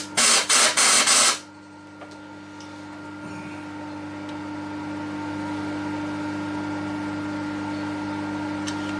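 Compressed air blasts out a large six-cylinder Deutz cylinder head in a few loud, hissing bursts lasting just over a second, then stops, leaving a steady workshop machine hum.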